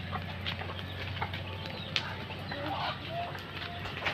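Chickens cluck softly around a rural hut, with scattered short calls over a steady low hum and background noise.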